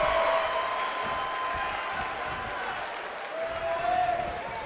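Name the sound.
arena crowd cheering in WWE 2K19 video game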